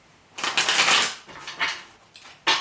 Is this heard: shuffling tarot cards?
yes